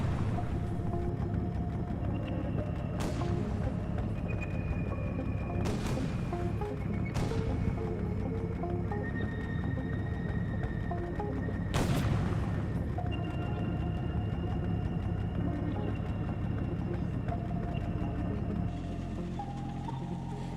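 A Sherman tank fires on a Panzer IV during the assault on Rauray, with several sharp, heavy blasts spaced out over a low rumbling drone and sustained musical tones.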